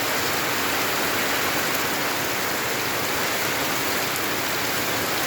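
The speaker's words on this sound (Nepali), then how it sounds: "अहिले चाहिँ हाम्रो यति बेला चाहिँ यस्तो पानी झरी परिरहेको है।" Heavy rain pours down steadily in a dense, unbroken wash of hiss and patter on surfaces, loud and close throughout with no pauses.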